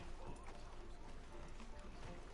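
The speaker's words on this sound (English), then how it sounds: "I'm gonna get on my horse and start leaving." A horse's hooves clip-clop in a quick, uneven rhythm close by, with people talking over the steady clatter throughout.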